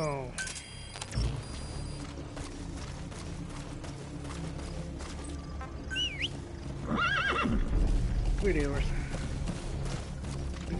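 A horse in the video game Metal Gear Solid V whinnies loudly several times, its rising and falling calls standing out over clip-clopping hooves, music and a talking voice.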